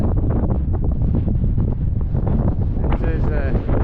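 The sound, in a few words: wind blowing on a hillside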